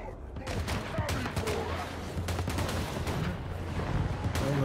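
Rapid volleys of gunfire crackle through a Total War: Warhammer III battle as ranked troops shoot into Nurgling units, dense overlapping shots over a rumbling low battle bed, sustained and loud throughout.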